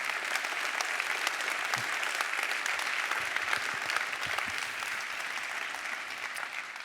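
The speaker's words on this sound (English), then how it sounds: "I think we'll put your hands together" A conference audience claps in a sustained round of applause, dense and even from start to finish, with no voices rising above it.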